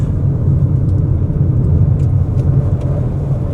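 A 2026 Proton S70 facelift with a four-cylinder turbo engine accelerating on the Sepang track, a steady loud low rumble and road roar heard from inside the cabin, with no talk.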